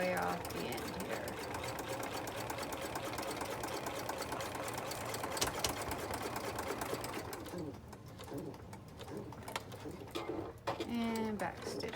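A sewing machine stitches a line across a fabric binder pouch, running in a steady close buzz that slows and pauses near the end, with faint bird calls and soft voices in the background.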